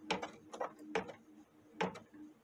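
A Brother Stellaire embroidery machine stitches out a square with soft, rhythmic mechanical clunks. They repeat in close groups, quiet and near, with a faint hum between strokes.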